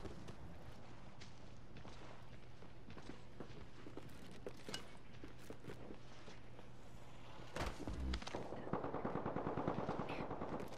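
Rapid automatic gunfire from an Apex Legends match crackles in dense bursts throughout, with footsteps and a sharper burst of shots and impacts near the end; no talking.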